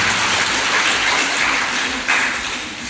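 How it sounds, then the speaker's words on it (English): Audience applause at a school felicitation ceremony for students at a girls' higher secondary school, a dense, steady roar of many hands clapping close and loud throughout, with a brief swell near the end before tapering. "So I think we should all clap for yourself."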